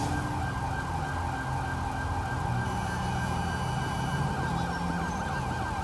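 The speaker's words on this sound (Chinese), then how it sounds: "救护车来了" Wailing ambulance siren from the video game GTA5, a steady electronic tone that sweeps up and down continuously over a busy traffic-and-engine backdrop, loud and close throughout.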